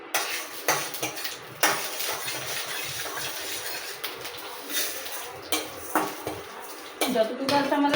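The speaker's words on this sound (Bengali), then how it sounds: "চলো এখন ঘিটা ভেজে নিই, এই ঘি দিয়ে দিই।" Ghee frying in a pot for vermicelli, a spoon scraping and clanking against metal in irregular knocks over a faint sizzle, growing busier toward the end.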